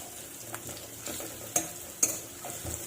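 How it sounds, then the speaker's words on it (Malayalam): Cashew nuts and raisins frying in a pan for semiya payasam, a steady soft sizzle with a few light stirring scrapes and two sharper clinks near the end, close by and with no talking. "അണ്ടിപ്പരിപ്പൊന്ന് ഫ്രൈ ചെയ്ത് വരുമ്പോൾ നമുക്ക് കിസ്മിസ് ഇട്ട് കൊടുക്കാം."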